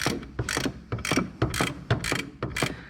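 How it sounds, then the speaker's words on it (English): Rapid ratchet clicks as a wrench tightens a line fitting, coming in repeated bursts of quick metallic ticks, close and fairly loud with no talking. "it's like a ratchet to tighten"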